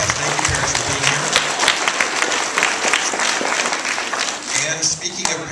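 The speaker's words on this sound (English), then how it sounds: "So let's give our parents a big round of applause." A school achievement awards audience gives parents a round of applause: dense, close clapping from many hands runs through the whole stretch, with some voices mixed in.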